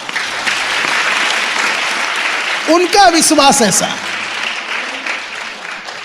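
Applause from a church congregation during a fasting prayer service: a continuous wash of clapping fills the room while a voice speaks briefly over it partway through.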